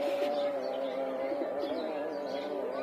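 Pigeons returning one by one to their loft after a 25 km toss, with a steady close cooing drone and scattered soft chirps running throughout.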